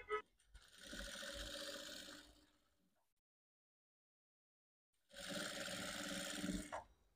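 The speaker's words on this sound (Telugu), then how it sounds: "ఇక్కడ నుంచి హాఫ్ ఇంచు ఖర్చు ఉండేలాగా కుట్టు వేసేసుకుందాం" A sewing machine stitches the sleeve seam of a saree blouse in two sustained whirring runs, close and steady, separated by a few seconds of silence, with no talking.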